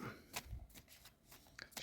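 Tarot cards shuffled by hand in soft, irregular riffles and slides, a few brief rustling bursts close by and fairly quiet.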